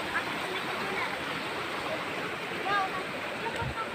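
Linasin Falls pours in a steady, dense rush of falling water heard up close, a continuous roar without a break.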